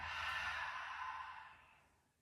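A long, steady exhale during a beginner yoga session, a single breathy outflow that starts full and fades gradually to quiet, heard close with no talking.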